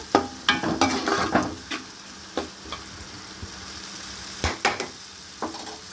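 Tomato masala frying and being stirred in a pan for a small-fish curry, with a steady sizzle broken by scraping stirs that come in bursts, loud early on and sparser later, with no voices.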